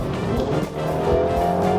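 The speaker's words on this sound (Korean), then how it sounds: "다운 시프트." A Mini JCW convertible's engine revs briefly and blips through a downshift while driving, a short rise and fall of engine note mixed with road and wind noise.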